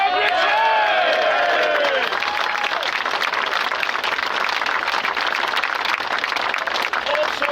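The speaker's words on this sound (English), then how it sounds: "we need to give ourselves a round of applause" Outdoor crowd at Speakers' Corner, London, applauding and cheering loudly and steadily throughout, with shouts and whistles rising over the clapping at the start.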